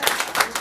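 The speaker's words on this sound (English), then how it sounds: "Just give that woman a round of applause." Brief burst of audience applause at a business presentation, several loud claps close together in a short, energetic patter.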